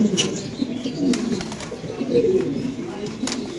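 A pigeon for sale at a bird market gives soft, repeated low cooing close by, under people talking nearby.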